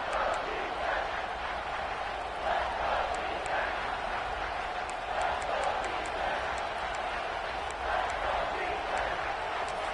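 A packed football stadium crowd roars steadily through a Texas A&M versus Florida college game, a loud sustained wall of cheering and noise with shouts rising and falling, and a commentator's voice sits over it.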